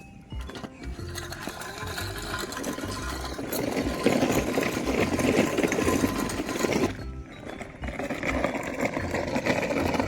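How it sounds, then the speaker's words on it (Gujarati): A Shakti tractor engine runs steadily in a farm field, a loud continuous mechanical drone with a low rumble that swells slightly in the middle and dips briefly before carrying on. "શક્તિ ટ્રેક્ટર તો ઉપાડી લીધો."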